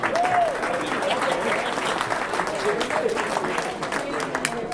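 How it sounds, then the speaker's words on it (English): A round of applause rises from the crowd at a media holiday luncheon, a dense, sustained clapping that stays loud throughout, with a voice faintly audible at the start. "Give yourselves a round of applause for being here"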